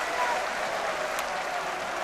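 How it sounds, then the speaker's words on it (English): Football fans in a stadium crowd applauding at a Hereford v Brighton match in the 1996/97 season, steady dense clapping from a distance. "And that's applauded even by the Brighton fans"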